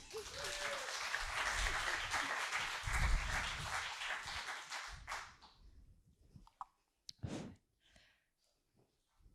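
Audience applause at an eloquence evening: steady clapping for about five seconds that fades out, followed by a few scattered claps and brief sounds in a quiet room.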